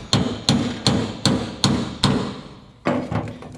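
A hammer strikes a tool set against a leftover spot weld on a C10 rocker panel during rust repair, giving a steady rhythm of six sharp metallic blows and then a quicker cluster of lighter taps, close and loud.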